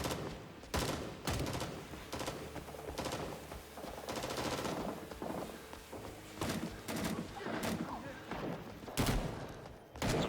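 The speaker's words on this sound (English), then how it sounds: "I think we're getting shot at" Gunfire in Rising Storm 2: Vietnam crackles as repeated sharp bursts and single shots, some rapid like machine-gun fire, scattered irregularly over several seconds at moderate distance.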